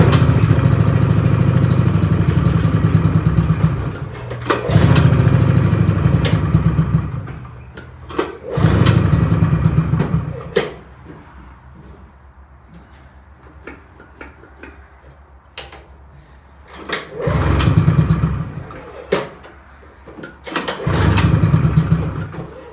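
A vintage Polaris engine cranks repeatedly, its loud rough churning coming in several separate bursts with quiet gaps between as it struggles to catch and run, close up with no talk.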